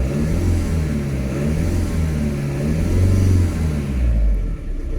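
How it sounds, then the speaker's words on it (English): A 2002 VW Jetta TDI with an ALH diesel engine, running unevenly and smoking under a P0234 boost fault, revs up in a low, rumbling surge that rises and dips, sustained and fairly loud throughout with no talk. "as I'm revving up the engine"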